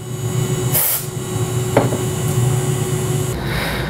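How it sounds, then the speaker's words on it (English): A can of compressed air blasts away powder left by micromilling a fish otolith sample, giving short hissing sprays over a steady machine hum, close and fairly loud. "You can also use a can of compressed air to clear away any powder that builds up."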